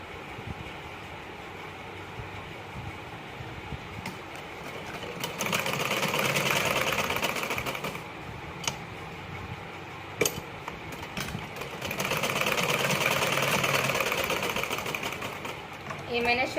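An electric sewing machine stitches blouse parts together, running in bursts of rapid whirring and clattering with short pauses between, close and fairly loud, with someone speaking at times.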